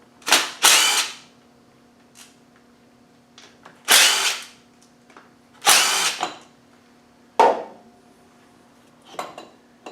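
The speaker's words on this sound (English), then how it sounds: "Now we can take the 4 bolts off," A power drill or impact tool backs out the bolts holding the pump on a TDI engine. It comes as several loud, close bursts of whirring and rattling separated by short quiet pauses, with no talk.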